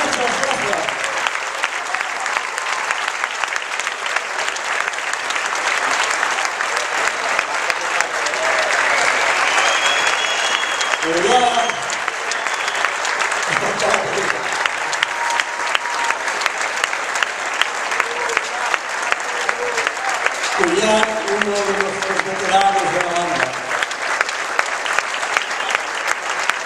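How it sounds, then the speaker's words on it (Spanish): Sustained applause from a concert audience at a summer performance by a town band and choir, steady dense clapping filling the space with a few brief voices rising through it. "esos aplausos que nos animan a seguir trabajando en el coro y en la banda"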